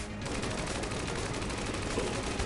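Dense, continuous gunfire from the video game Enter the Gungeon, a steady rattling barrage that holds at one loud level throughout, with no talk.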